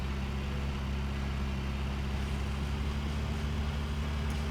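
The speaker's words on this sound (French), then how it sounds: "C'est le son de la voiture qui est le bordel du coup." Car engine idling in the video game Storage Hunter Simulator, a steady low droning hum that continues unchanged throughout with no talk.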